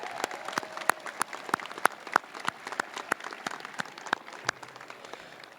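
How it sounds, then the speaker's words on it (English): A graduation audience at Jefferson City High School gives a round of applause for the mothers present, sparse but sharp individual claps ringing out irregularly across a large hall over a soft crowd bed. "Let's give them a round of applause."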